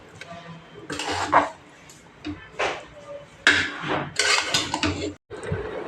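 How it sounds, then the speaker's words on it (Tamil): A spoon scrapes and clanks in a pot while ghee is mixed into rice and lentils for Kovai-style paruppu saatham, with several separate metallic stirring knocks and scrapes, fairly close and moderate in volume. "நெய் ஊற்றி கலக்கிட்டு"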